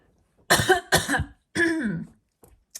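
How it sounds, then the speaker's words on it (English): Three harsh coughs in quick succession, close and loud, followed by a brief faint throat noise. "Let me just cough one moment."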